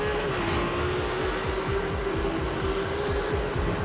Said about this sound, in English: We worked a lot on the engine architecture, on the combustion and on the exhaust system to create this magnificent